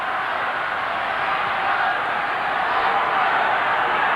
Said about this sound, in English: Once more this great crowd gets behind Brisbane.